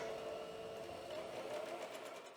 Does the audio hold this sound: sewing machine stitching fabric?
yes